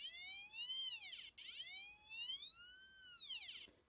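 An XP MI-6 metal detector pinpointer gives a loud electronic squeal with rich harmonics, sweeping up and down in pitch over several seconds, briefly dipping and cutting off near the end.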